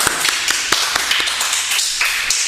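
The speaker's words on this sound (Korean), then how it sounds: "박수 한번 해주세요." A church congregation at a Sunday worship service claps in a loose, steady rhythm of sharp individual claps for a couple of seconds, fairly close and alone without talk.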